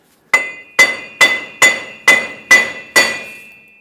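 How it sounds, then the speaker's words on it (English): Seven evenly spaced metallic hammer taps ring out against a wheel bearing on the front axle of a 2003-2009 Dodge Ram 2500 with a 5.7L V8, each strike sharp and close with a brief bright ring, heard alone. "take a hammer and tap the wheel bearing side to side"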